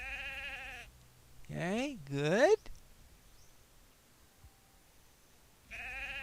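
Sheep bleating in the video game Lore of the Shadow, a clear bleat at the start, two more wavering bleats soon after, and another at the end, with a voice speaking in between.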